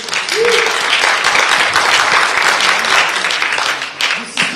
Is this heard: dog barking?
no